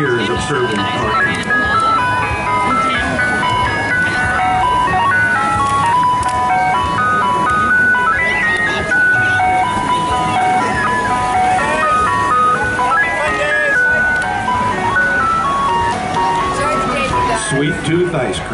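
An ice cream truck plays its looping melodic jingle throughout a small-town parade, loud and steady, with an announcer's voice talking over the music and vehicle noise underneath.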